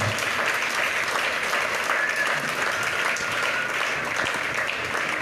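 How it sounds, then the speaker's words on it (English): Steady applause fills the room for a panel discussion, a continuous patter of many hands at even loudness, with a faint murmur of voices beneath it. "A round of applause for my discussion."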